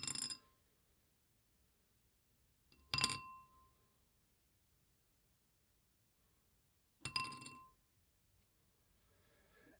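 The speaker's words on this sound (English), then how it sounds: "we're just going to drop our stones in there carefully, because this is glass, don't want to break them" Stones dropped one at a time into a glass bowl give three bright, separate clinks several seconds apart, each ringing briefly before fading into a quiet room.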